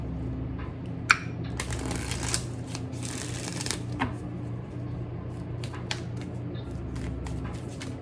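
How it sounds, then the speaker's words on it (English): Moonology Oracle cards being shuffled by hand, a steady papery riffle with sharp snaps and taps as the deck is squared, close and clear with no talking. "I'm gonna shuffle these"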